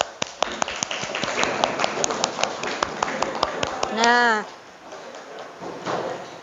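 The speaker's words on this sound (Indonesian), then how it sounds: "Aplaus untuk kita semua" A classroom group claps in a quick scattering of sharp, separate claps rather than full applause, followed by a short tonal sound and then quieter room noise with talk.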